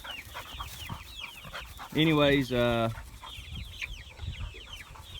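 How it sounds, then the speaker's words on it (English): Rhode Island Red pullets cluck and chirp in short repeated calls, with one loud drawn-out squawking call standing out in the middle, while someone speaks briefly nearby. "We got some Rhode Island red pullets here"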